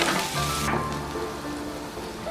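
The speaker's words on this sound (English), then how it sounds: "So you fry the sausages, and fry some onions" Classic British bangers sizzling in a pan alongside frying onions, a steady crackling hiss that holds close and even throughout, with no voices.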